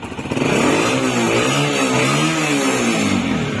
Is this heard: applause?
no